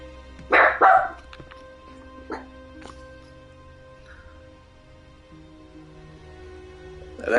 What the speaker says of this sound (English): That was my dog you could hear in the background